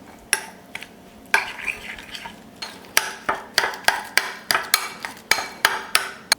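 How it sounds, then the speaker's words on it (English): Curried deviled egg yolk filling with curry powder is mixed in a bowl, with a rapid run of sharp utensil taps and scrapes against the dish, loud and close. "Give this all a mix."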